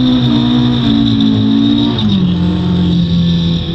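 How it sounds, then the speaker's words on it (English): A rear-wheel drive rally car engine holds a steady, loud drone under throttle with a brief pitch dip midway, suggesting a slide on loose ground. "Then the rear comes, loses the grip, and it starts to slide."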